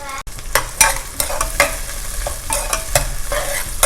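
Mixed vegetables for a pulao sautéing in oil in a pan, a close, steady sizzle with repeated scraping stir strokes at an uneven rhythm.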